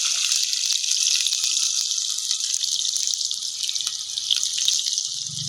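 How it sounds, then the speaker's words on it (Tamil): Onion and salt tipped into hot oil for a Tamil crab masala, giving a steady bright sizzle with scattered crackles and pops that carries on unbroken throughout, close and fairly loud with no talking. "எண்ணெய் சூடாயிடுச்சு அந்த வெங்காயமும் உப்பையும் போட்டுக்கலாம்"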